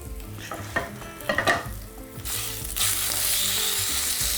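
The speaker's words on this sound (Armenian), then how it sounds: "Մսակտորը ամբողջական ենք տապակում։" A whole piece of beef fries in olive oil in a pan, with a few stirring knocks early on giving way to a strong, steady sizzle that swells and holds loud to the end, no voices.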